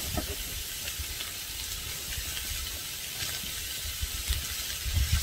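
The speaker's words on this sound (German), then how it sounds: "Gemüse und die Zwiebeln ein bisschen angebraten" Vegetables and onions frying in a pan give a steady, even hiss and sizzle, close and unbroken, with faint clinks near the end.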